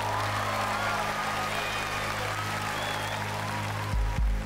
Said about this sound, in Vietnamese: vỗ tay cho ủng hộ cho Việt Hoàng đi các bạn.